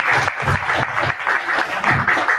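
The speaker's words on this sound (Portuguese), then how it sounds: "Olha que generosidade, que eles até aplaudiram, nem falei nada ainda, gente." An audience at a spiritual seminar lecture breaks into dense, steady applause, close and loud throughout the short stretch.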